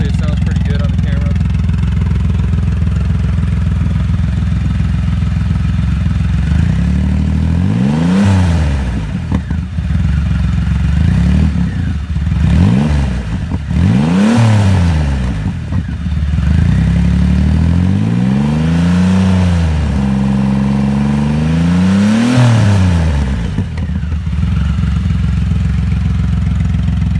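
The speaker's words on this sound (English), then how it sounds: "Try and rev it up for you. Hopefully it sounds pretty good on the camera." A Triumph Rocket 3 Roadster motorcycle fitted with a Dain exhaust idles loudly up close, then is blipped through a series of sharp revs that rise and fall. The last rev is held longer before dropping back to a rumbling idle.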